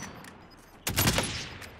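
Gunfire in Call of Duty: Warzone, a loud close burst of rapid shots that erupts after a quiet stretch and rings out for about a second.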